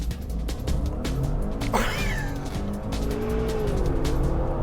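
A Maserati Levante Trofeo SUV in launch control acceleration: a loud, continuous engine roar building in pitch, with a brief tire squeal as it pulls away, and no talk.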